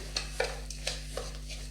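Semolina idli batter with a tempering gets mixed in a bowl, a few soft scraping stirs close by over a low steady hum, with no talk.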